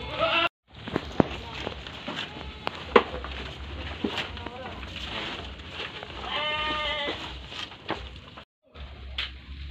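Goats eat a chopped mix of assorted leaves on a small farm, with bleats rising over steady munching and shuffling nearby, brief quiet gaps between, and a person talking in the background.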